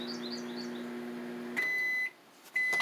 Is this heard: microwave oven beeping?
yes